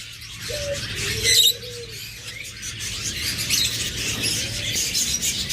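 A pair of black mask lovebirds chirps with short, bright tweets and squeaky calls, one louder burst near the start, steady over a faint low hum with no talking.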